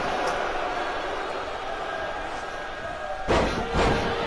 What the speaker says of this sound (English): Oh, slamming Watson back into the mat.